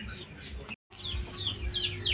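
Chickens cluck and chirp nearby in a quiet setting, with brief soft calls continuing after a short moment of silence.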